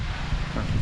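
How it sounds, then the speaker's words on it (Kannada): Strong wind gusting across an open rocky site near Hampi in the early afternoon, a loud, continuous low roar buffeting the microphone with no other sound standing out. "ಇಲ್ಲಿ ಒಂದು ಗಾಳಿ ಬೀಸ್ತಿದೆ ನೋಡಿ ಯಾವ ರೇಂಜಿಗೆ ಅಂತ."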